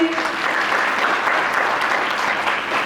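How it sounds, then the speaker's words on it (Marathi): Loud, continuous applause from an audience at an Ashadi Ekadashi celebration, a dense steady clatter of many hands lasting the whole stretch with no break. "एकदा जोरदार टाळ्या ह्या आमच्या सगळ्या टीमसाठी"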